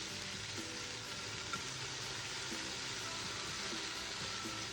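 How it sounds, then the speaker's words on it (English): Red curry paste sizzling and frying in hot oil for chicken curry, a dense continuous crackle and hiss at close range with faint stirring, no voices. "so now I'm putting in the red curry"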